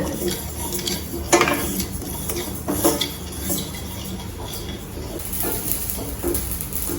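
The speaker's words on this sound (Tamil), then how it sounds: "இந்த கடுகு நல்லா பொரியுது பாருங்க" Mustard seeds popping and spluttering in a hot pan while making mango pickle, with scattered sharp crackles over a low sizzle and occasional utensil clinks.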